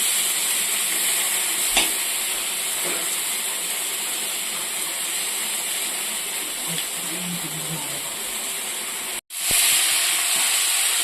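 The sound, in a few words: drumsticks and potatoes frying in pan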